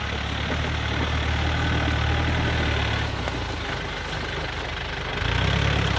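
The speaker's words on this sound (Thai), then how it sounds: "เครื่องยนต์ก็ใช้ยันมาก" A Yanmar EF514F tractor with a front dozer blade idles steadily on a rice field, a continuous low diesel rumble that dips slightly midway and returns louder, with no one speaking.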